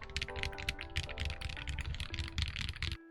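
Fast, steady typing on a KBDCraft Israfel split ergonomic mechanical keyboard, a dense run of close, crisp key clacks with a faint background tone beneath, stopping abruptly near the end.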